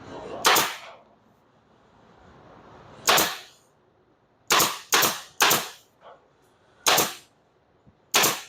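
A staple gun fires staples into upholstery inside a vehicle interior, giving about eight sharp, loud snapping shots at irregular intervals, each crisp and close, with quiet background between them.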